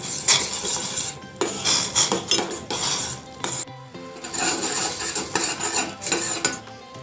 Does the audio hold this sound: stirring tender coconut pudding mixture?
yes